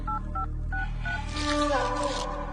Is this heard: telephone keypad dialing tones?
yes